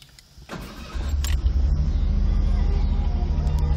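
A truck engine, a cheap junkyard find, cranks briefly and catches, then settles into a steady, close, rumbling idle that continues to the end.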